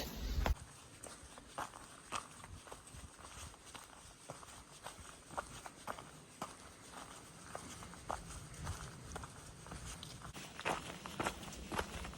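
Footsteps of a hiker on the Appalachian Trail crunch along at a steady walking pace over 12 seconds, soft and fairly quiet against light outdoor ambience.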